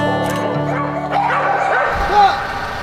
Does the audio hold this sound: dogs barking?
yes